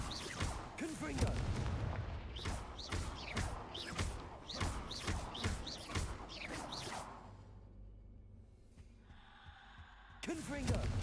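Repeated loud blasts of the Confringo fire spell in Hogwarts Legacy, a rapid run of sharp bursts and whooshes for several seconds, then a lull with a low drone before one more burst at the end; speech is mixed in.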